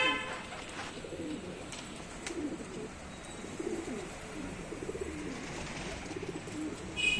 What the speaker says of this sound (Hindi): जंगली कबूतर भी उड़ गए हैं, मेरे कबूतर भी उड़ गए हैं